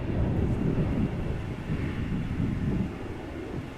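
An Embraer 175 jet taxiing at Amsterdam Schiphol gives off a steady low rumbling roar, heard from a distance and mixed with wind buffeting the microphone.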